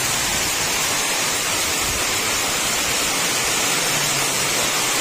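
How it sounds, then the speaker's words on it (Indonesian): Heavy rain pours steadily at night during an all-night downpour with flooding, a dense continuous hiss filling the whole clip with no pauses and no voices. "Hujan masih deras."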